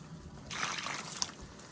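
Water trickling and splashing onto potted plants during watering, a soft close patter that swells midway and continues gently with small drips.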